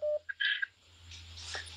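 Telephone keypad dialing tones: a short series of beeps in quick succession, followed by faint ringing-like tones, fairly quiet and with no talk.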